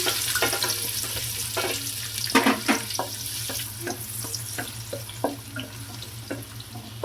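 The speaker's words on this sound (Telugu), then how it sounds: "ఇప్పుడు నేను ఉల్లిపాయలను అయితే యాడ్ చేసుకుంటున్నాను" Chopped onions dropped into hot oil for a tomato masala gravy curry, sizzling and crackling steadily up close, with scattered sharper pops and stirring scrapes through the sizzle.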